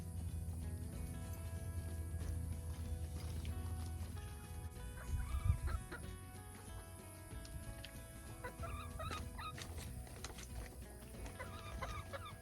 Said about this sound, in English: I've got one of my chickens thinking that she's gonna get up here